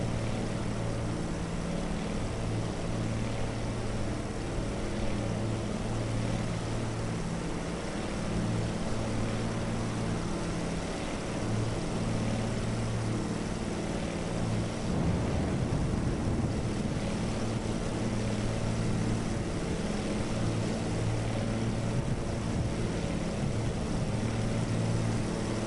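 Steady droning aircraft engine in a flight simulator game, continuous and fairly loud with a tonal hum, swelling briefly midway as throttle rises.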